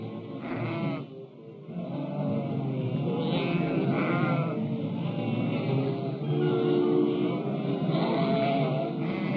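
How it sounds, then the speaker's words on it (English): A large flock of sheep being driven along a highway bleats continuously, many overlapping calls near and far forming a steady dense chorus with no talk. "for the week or 10 days of the drive, sheep have the right-of-way on the highways"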